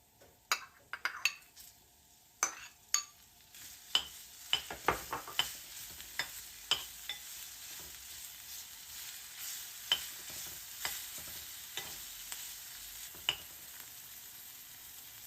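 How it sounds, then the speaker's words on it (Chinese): Shredded ginger crackles in hot lard in a wok for Shanghai vegetable rice porridge, with a soft continuous sizzle broken by bright metallic clinks and scrapes of a spatula stirring, loudest early and then more sparse, with no speech. "姜丝爆香"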